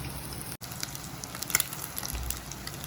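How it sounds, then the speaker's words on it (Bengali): Boiled eggs coated in turmeric, chili powder and salt frying in hot oil, a steady close sizzle with a brief dropout and small pops, no talking. "ডিমগুলোকে এখন আমরা ভেজে নিচ্ছি।"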